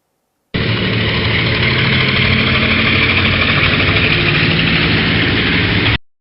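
A helicopter engine drones loud and steady with a low rumbling vibration, cutting in abruptly and holding evenly for several seconds before stopping suddenly.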